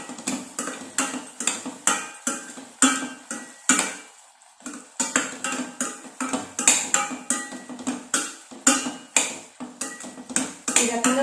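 A spoon repeatedly scrapes and clinks against a pan while stirring cashew paneer butter masala curry, making a rapid, irregular series of sharp metallic taps with one short pause midway, close by and with no speech.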